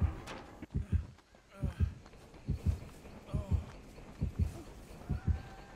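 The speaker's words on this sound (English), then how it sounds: "The heartbeats, mate." Thumping double-beat heartbeat of the killer in Dead by Daylight, low and pulsing in a steady lub-dub rhythm, about seven pairs close together, with faint game sounds around it.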